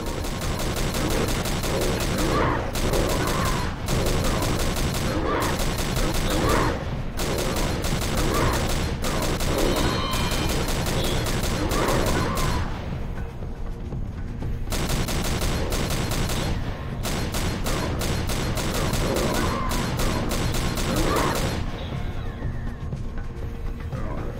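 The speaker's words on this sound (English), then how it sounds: "Use the mounted gun, Rogue." A mounted gun fires in the Rogue Trooper video game: dense, loud bursts of rapid automatic fire with a few short pauses, continuing throughout.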